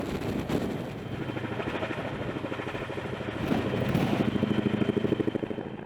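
A large CH-47 Chinook tandem-rotor helicopter lifting off, its steady rapid rotor chop and turbine roar loud and close, swelling slightly as it climbs.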